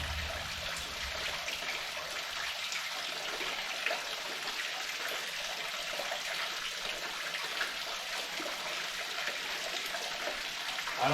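Fluid runs out of the oil drain on an M and W dynamometer in a steady, continuous trickle and splash that holds at an even level throughout, with no voices.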